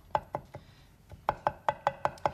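A knife chops steadily on a cutting board, a few sharp knocks, a short pause, then a quicker run of six evenly spaced chops, close and crisp.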